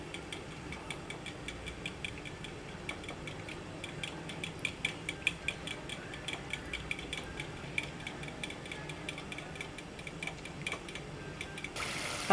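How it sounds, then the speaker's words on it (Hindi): A whisk or spoon ticks quickly and steadily against a bowl while yogurt is beaten smooth for mustard greens saag, a faint, continuous clatter with no talking. "अब इसको दही को फेंट के रखेंगे।"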